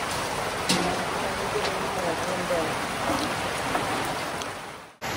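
Steady rain pours down outdoors in a rural province, a dense, even hiss of falling water with occasional louder drops throughout, cutting off abruptly at the end.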